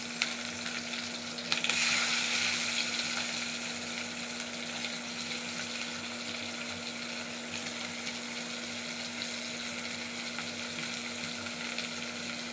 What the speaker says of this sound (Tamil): கடுகு, உளுந்தம் பருப்பு, கடுகு பொரிஞ்சிட்டு சின்ன வெங்காயம் கலந்துக்கலாம்.